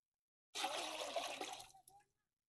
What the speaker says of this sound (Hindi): तकरीबन 2 लीटर का पानी हम डालेंगे इसमें।